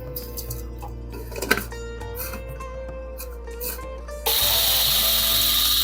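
Mixer grinder grinding dried chopped ginger in its jar: after some faint clinks and shuffling, the motor starts abruptly into a loud, steady, whirring grind that continues unbroken.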